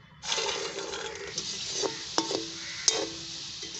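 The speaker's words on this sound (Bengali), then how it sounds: "এই বিস্কুটগুলোকে আমি এখন আবার ভেজে নেব" Steady bubbling sizzle of cashew biscuits deep-frying in oil, with a few light metallic clinks of a utensil against the pan.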